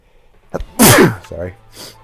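A single sharp, loud sneeze bursts out close by during a tabletop role-playing game session, preceded by a soft intake of breath and followed by a brief voiced sound.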